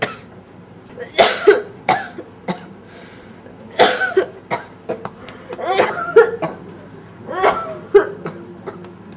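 Repeated harsh coughing fits, several bursts in clusters with short pauses between, close and loud in a quiet room.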